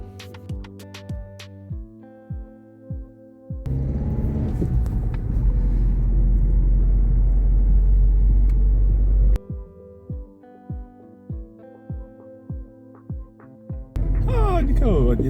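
A car drives along a road, its engine and tyre rumble swelling loud and steady for several seconds in the middle, with rhythmic thumping, music-like passages before and after.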